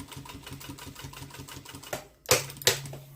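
A sewing machine runs a steady, even basting stitch with a low motor hum and rhythmic needle clatter, then stops and gives a couple of sharp mechanical clicks.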